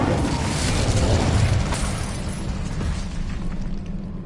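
An Incendio fire spell cast in Hogwarts Legacy on PS5 erupts as a loud, sustained fiery burst with a heavy low rumble that fades slowly over a few seconds.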